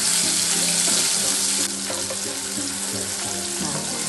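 Chopped onions with fennel and ginger frying in hot oil in a pan, a steady close sizzle and hiss that runs through the whole stretch with faint stirring scrapes.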